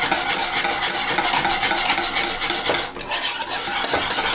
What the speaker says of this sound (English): I want you to really whisk this